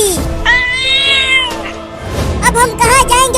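A cartoon cat meows: two drawn-out, wavering cries sounding close and loud, the second breaking into several rising and falling pitches, with a voice-like quality.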